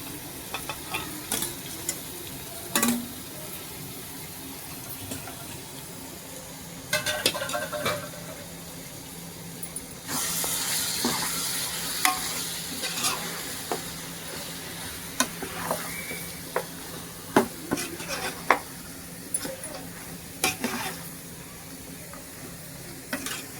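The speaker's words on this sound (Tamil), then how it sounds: "சரி, நம்ம மட்டனை கொஞ்சமாக தள்ளிக்கலாம்." Mutton fries in a pot for biryani, giving a steady sizzle broken by scraping spoon strokes and clanks, with a louder, busier stretch of stirring midway. Nobody speaks.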